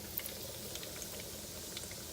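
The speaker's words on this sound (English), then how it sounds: "It's got a nice, light, quiet sizzle as soon as you put it in." Steady, quiet crackling sizzle of chicken pieces frying in hot oil, a constant hiss with small pops scattered throughout.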